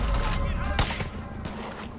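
A gun firing in Far Cry 5 at an outpost, giving one sharp, loud crack among continuous combat noise.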